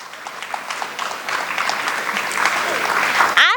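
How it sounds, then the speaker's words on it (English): Dense applause from a crowd, building steadily and staying loud throughout, with many hands clapping together. "with a round of applause"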